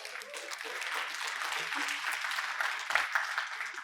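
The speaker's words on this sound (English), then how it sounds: "Let's give Ron a round of applause." A crowd at a millionaires' summit claps for Ron, a moderately loud, sustained round of applause with a brief louder burst near the end and some voices mixed in.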